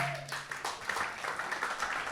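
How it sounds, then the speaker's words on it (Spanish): A church congregation applauding together, a fairly quiet but steady patter of many hands clapping that runs for about two seconds, with a brief held tone at the start. "Dale un aplauso al Señor."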